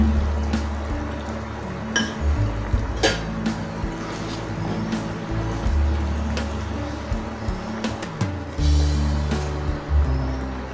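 Water is poured and stirred into a coconut chicken gravy in a cooking pot. It makes splashing, liquid sloshing sounds with occasional sharp clinks of a utensil against the vessel, close and fairly loud.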